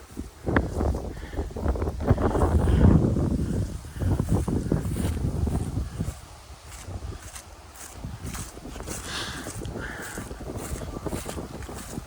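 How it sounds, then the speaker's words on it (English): Gusty wind roars across the microphone on a woodland hike near a pond, heavy rumbling buffets that swell loudest early and then ease into a steadier, softer rush, with no voices. "The wind's definitely picked up."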